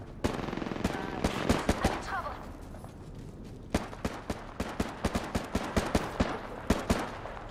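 Gunfire in the video game Apex Legends: rapid bursts of sharp shots, some clustered like automatic fire and others spaced single cracks, loud and close throughout.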